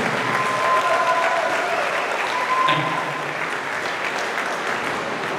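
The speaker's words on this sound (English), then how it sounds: "Give a round of applause, folks." An audience at a hypnosis show in Punta Cana claps steadily in a dense, continuous round of applause that holds at an even level throughout, with a few voices faintly underneath.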